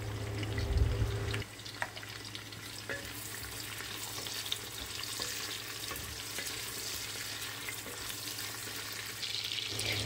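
Chopped onions frying in oil and ghee with bay leaf, garam masala, cardamom and cloves, a soft steady sizzle with occasional stirring clinks, quiet and close, a low hum fading after the first moments.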